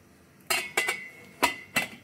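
A metal lid is set onto an idli steaming pot in a home kitchen, giving four loud metallic clanks and rattles with a ringing tone, irregularly spaced over two seconds with no talking.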